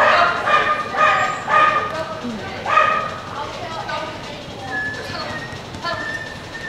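A dog barks in short repeated bursts, a few close yips and woofs spaced over several seconds, with a quieter whimpering tone later.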